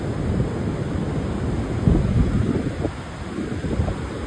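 Monsoon rain pours at Murud Janjira beach as a dense, steady hiss, with gusty wind buffeting the microphone and a low rumbling undertone throughout, and no voices.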